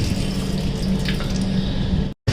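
A tap runs in the washroom of an Intercity Express train between Ajmer and Gwalior, making a steady, close, broadband hiss of flowing water for about two seconds before cutting off abruptly.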